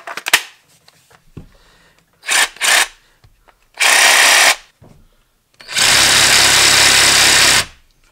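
A Ryobi cordless jigsaw runs in bursts near the listener. Two short trigger pulls are followed by two longer, loud, steady buzzing runs, with clicks and quiet gaps between them.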